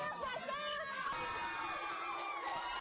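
Family and friends gathered around two big TVs at an aunt's house in Lewisburg cheer during the Super Bowl, with a steady, lively crowd wash of shouting, whoops and excited children's voices.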